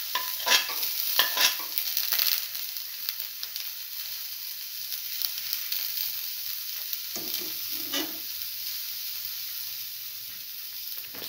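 Garlic and ginger fry in a hot pan with a steady broad sizzle, punctuated early by a few sharp stirring scrapes and later by brief clinks, continuing unbroken throughout.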